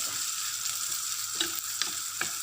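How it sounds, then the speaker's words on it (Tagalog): Hotdog browning in a hot pan, giving a steady, close sizzle of frying with a few brief crackling pops and no voices. "Lutuin lang natin si hotdog. Medyo i-brown natin ng konti."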